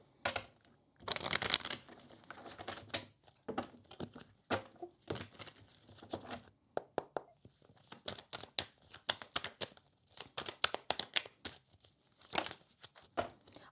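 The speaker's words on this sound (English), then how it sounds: "Let me shuffle one more time." A deck of cards shuffled by hand for a tarot-style pick-a-card reading gives dense, crinkly riffling bursts in quick irregular runs, close and fairly quiet, with no talking.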